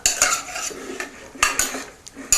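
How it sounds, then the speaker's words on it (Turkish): Carrots stirred with butter and salt in a pan: scraping and clinking of a utensil against cookware, with several sharp knocks amid a steady rustle, close and fairly loud, no talking. "İçerisine tereyağı, tuz, şöyle bir karıştırıyorum."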